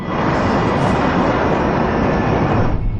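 A West Caribbean Airways airliner cruises at 31,000 feet, a constant, loud broadband roar of engines and airflow that holds steady throughout.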